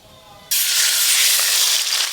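Spice paste drops into hot mustard oil in a pan and erupts into a sudden loud sizzling hiss that holds steady, fading slightly at the end.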